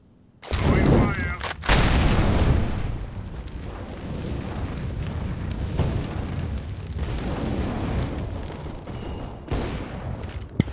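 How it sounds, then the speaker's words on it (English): Explosions and gunfire ring out in Counter-Strike: Global Offensive during a competitive match on Dust, with a loud grenade-like blast followed by sustained rumbling bursts and scattered shots that stay fairly loud across the stretch. "Grenade out."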